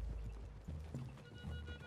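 Horses in the Western video game Red Dead Redemption 2, faint clip-clopping hooves and a soft snort or whinny, low and muffled in the background with quiet game ambience.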